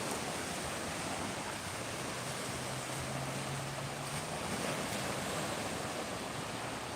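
Gulf waters surge onto the beach at Clearwater, Florida, a continuous broad wash of surf with steady wind, fairly soft and unbroken, with a faint low engine drone passing midway and no talk.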